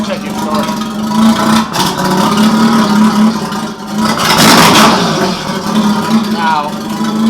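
A Mazda FC RX-7 engine pulls under throttle on a first drive, its steady mid-pitched drone rising and surging slightly over several seconds, fairly loud and continuous beneath occasional talking.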